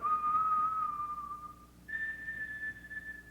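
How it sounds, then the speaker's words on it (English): Two sustained whistled notes, the first holding steady then dipping slightly, the second higher after a brief break, soft and alone. "A musical clue. A whistle. A note."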